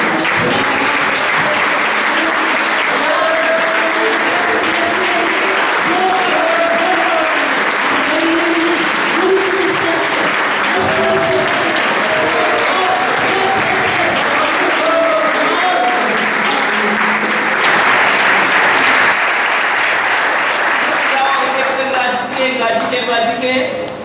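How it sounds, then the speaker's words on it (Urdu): Loud, sustained applause from a large crowd, clapping continuously throughout with some voices mixed in. "زوردار تالیاں بجا کر"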